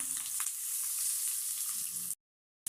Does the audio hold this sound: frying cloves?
yes